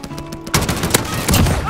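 A quick volley of shots in Call of Duty Warzone, loud cracking bursts packed into under two seconds, with a player's voice mixed in.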